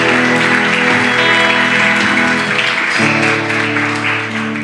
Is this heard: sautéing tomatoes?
no